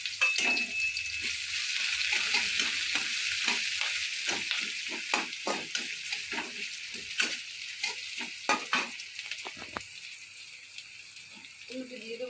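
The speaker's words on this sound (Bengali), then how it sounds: "তেল ছিল এই কড়াতে, তার মধ্যে পেঁয়াজটা দিয়ে দিই।" Onion sizzling and frying in leftover oil in a wok, a steady hissing crackle with repeated stirring scrapes and clinks, close and fairly loud, with a brief spoken word near the end.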